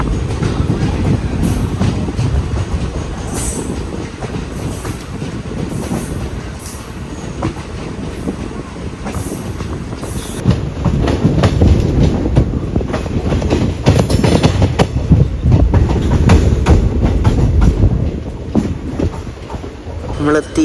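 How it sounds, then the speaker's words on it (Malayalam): The Mangalore - Chennai Egmore Express rolls along the tracks with a loud, steady rumble and rhythmic clickety-clack, growing heavier midway, heard from inside the train with faint voices under the noise. "എല്ലായിടത്തും സ്റ്റോപ്പ് ഉണ്ടെങ്കിലും വേഗം എടുക്കുന്നുണ്ട് കേട്ടോ നമ്മുടെ വണ്ടി."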